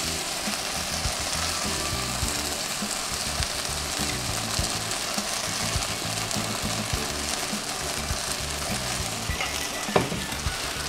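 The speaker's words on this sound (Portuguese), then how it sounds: "Eu vou acrescentar shoyu agora, misturar bem aqui o nosso molho." A Chinese sauce sizzles in a pan as soy sauce is added and stirred, giving a steady, dense frying hiss that goes on without a break, with faint scrapes of stirring and one clear clink near the end.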